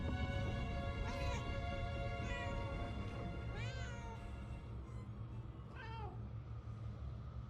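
A cat in the video game Murdered: Soul Suspect meows several times, with distinct cries spaced a second or two apart over a low, steady game ambience, and no speech in between.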